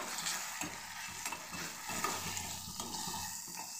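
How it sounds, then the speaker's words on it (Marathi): A turmeric masala for sprouted moth bean lentils is stirred and sautéed in a pan. A steady close sizzle runs throughout, broken by scraping stirs, and no one speaks. "पूर्ण असं आपण परतून घेऊ."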